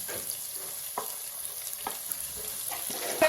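Crushed ginger and garlic sauté in a pan for a Kerala-style tomato rice, giving a steady close sizzle with a few soft scrapes of stirring and no talk.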